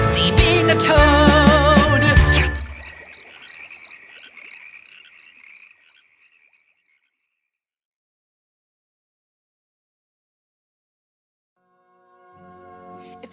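A toad in an animated film croaks in a loud burst of layered tones that trails into a fading series of softer croaks, then silence, before faint tonal sound returns at the end.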